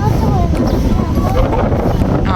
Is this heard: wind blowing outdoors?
yes